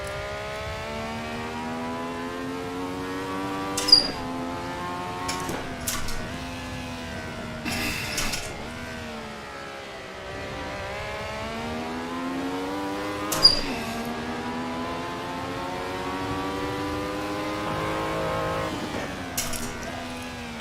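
A classic Formula 1 car, a Ferrari 312T or Lotus 72D, races in a video game at Imola, its engine revving steadily with rising pitch sweeps through gear changes and brief sharp clicks, loud and continuous.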